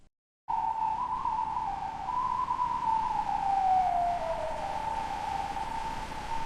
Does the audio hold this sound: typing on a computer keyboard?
no